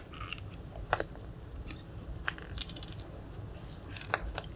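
A metal cam bolt on a piece of furniture is unscrewed anti-clockwise, giving a few sparse, light metallic clicks and ticks against faint background hiss, close and quiet.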